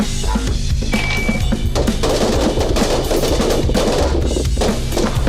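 Gunfire on an outdoor shooting range at the 75 mark, loud rapid volleys of shots crackling continuously and close, with metallic clinks of spent casings mixed in.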